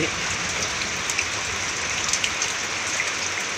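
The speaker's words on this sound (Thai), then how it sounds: "พอดีฝนตก" Rain falls steadily outdoors in a Thai garden, a dense, even hiss of drops close by with no talking.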